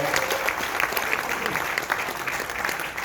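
Audience applause during guest introductions at a regional medical association convention, a sustained round of clapping from a sizeable hall with faint voices underneath.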